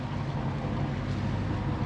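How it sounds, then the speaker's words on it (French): Sailboat engine held at 1400 rpm, a steady low droning hum with a continuous rumble and faint wind noise, close and unbroken, and no voices. "Ça va être à 1400 tours sur un moteur."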